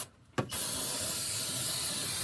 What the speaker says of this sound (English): Let's spray some of that off